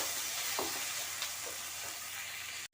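Chili chicken sizzles and hisses steadily in a pan just after water is added, with a few faint stirring scrapes and no talking.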